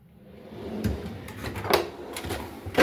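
A kitchen drawer being pulled open, a rattling slide with clattering contents and a few knocks, close and moderately loud.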